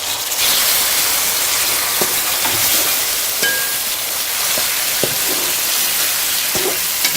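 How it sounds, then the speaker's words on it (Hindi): Lamb (dumba) meat frying hard in a karahi, a steady loud broadband sizzle throughout with a few scattered stirring clicks and ladle taps over it. "गोश्त को अच्छी तरह से भूनेंगे जब तक इसका कलर वाइट नहीं हो जाता"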